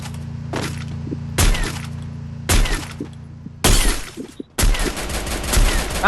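Gunfire in a mobile battle royale shooter as a player fires from above, loud bursts of shots with sharp, shattering cracks arriving in several separate volleys over a low steady hum of game sound.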